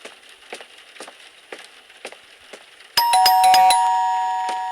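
Soft tapping sounds give way to a loud, bright video game doorbell chime with several ringing tones that sustain and slowly fade.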